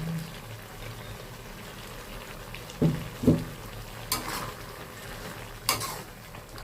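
Chicken stir-fried with galangal, sliced lemongrass and kaffir lime leaves, a soft continuous sizzle broken by several sharp scrapes and clinks of a utensil against the pan.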